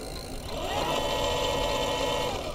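An electric bike's mid-drive motor under throttle, spinning the front chainring with the bike on its kickstand, a steady, close mechanical whirring that holds an even pitch throughout.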